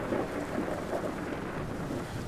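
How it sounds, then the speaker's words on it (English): Thunderstorm effect in an audio drama, with a dense wash of rain and low rolling thunder filling the short stretch steadily with no voices. "we are experiencing completely unprecedented storm activity"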